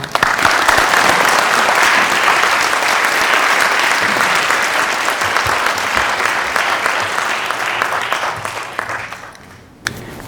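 Audience at a Korean business lecture applauding loudly and continuously to welcome a speaker, the clapping dense and close before thinning and fading near the end.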